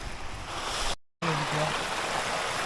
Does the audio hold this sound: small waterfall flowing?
yes